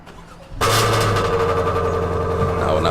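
A 2023 Acura Integra engine cranks and catches after a half-second of quiet, then settles into a steady, fairly loud idle that holds for the rest of the clip.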